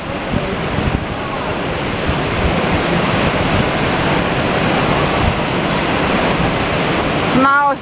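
A boat on the Monsoon Falls water ride at Six Flags Discovery Kingdom creates a sustained, loud roar of rushing, splashing water that runs throughout, with wind buffeting the microphone.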